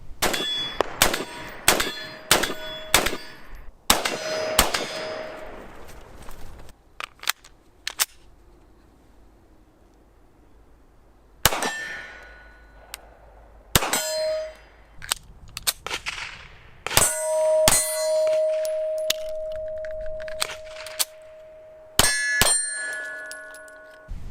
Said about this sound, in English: So you've seen this Evil Roy target by shootsteel.com in a bunch of my videos